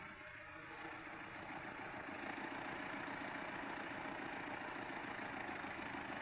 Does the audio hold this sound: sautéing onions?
no